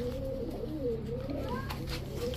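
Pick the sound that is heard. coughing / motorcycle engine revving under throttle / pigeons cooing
pigeons cooing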